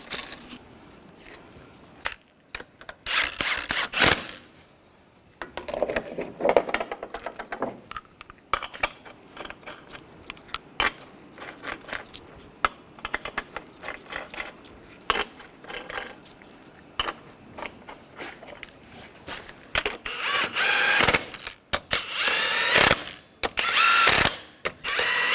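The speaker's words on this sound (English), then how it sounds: "Now put the wheel on. Get the lug nut started." Lug nuts are threaded on and snugged down on a wheel of a 2015-2018 GMC Sierra 1500 5.3L V8, with irregular ratcheting clicks and scattered metallic handling noises, rising to louder, denser ratchet bursts near the end.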